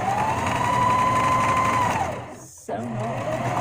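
Sewing machine stitching pockets onto fabric: a loud, steady motor whir with a sustained tone that fades, cuts out briefly, then starts again.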